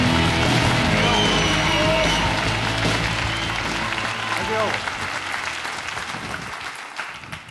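At a live comedy show, a theatre audience applauds and cheers in a loud, dense wave of clapping that gradually thins and fades, with the crowd murmuring and voices mixed in.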